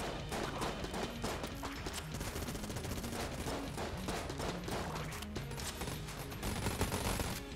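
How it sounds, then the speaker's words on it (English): A video game shotgun in Enter the Gungeon blasts out rapid volleys of many shots, a dense, continuous clatter of gunfire alongside a music track, with no pauses. "I was not expecting the shotgun to fire quite so many shots"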